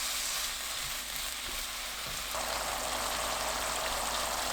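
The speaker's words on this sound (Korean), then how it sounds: "바로 물 100ml 넣고 중불로 끓여주세요" Burdock seasoned with soy sauce simmers over medium heat in a pan with 100 ml of water, giving a steady close hiss and bubbling with no voices.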